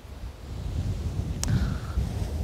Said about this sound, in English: to listen to these waves, birds, wind, and nothing else.